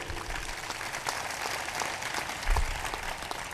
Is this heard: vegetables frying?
no